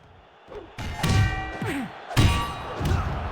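Ring bell used as a weapon against a wrestler in a wrestling video game: several loud metallic clangs and thuds hit in quick succession, each with a brief ringing tail.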